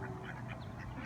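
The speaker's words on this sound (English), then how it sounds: "Okay, here comes the seagull." Seagulls calling in quick bursts at close range while being fed, their squawks overlapping with steady background noise.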